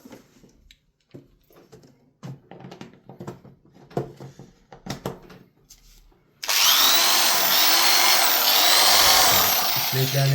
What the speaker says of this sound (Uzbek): Hozir ko'rsatamiz, bitta drel chiqadi.